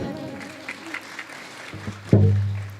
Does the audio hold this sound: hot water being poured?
no